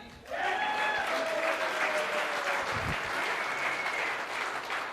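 Audience applause at a marketing training session, starting abruptly and holding steady and loud throughout, with shrill whistles rising above the clapping early on.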